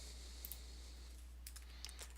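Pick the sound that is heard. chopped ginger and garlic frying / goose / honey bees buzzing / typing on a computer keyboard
typing on a computer keyboard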